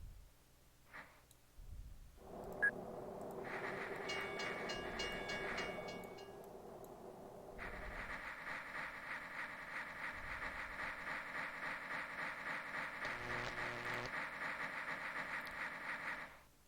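Synthetic train running sound from the OpenTTD transport simulation game, a steady rhythmic rumble with repeating clickety-clack pulses and tonal hum, heard alone and fairly quiet.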